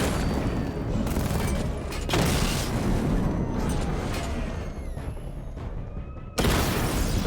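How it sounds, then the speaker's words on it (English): Missile barrage in the Batman Arkham Knight video game: a dense run of booming blasts and bursts, loud and continuous, with a sharp new volley crashing in near the end. "Destroy targets to charge up weapon energy and activate missile barrage."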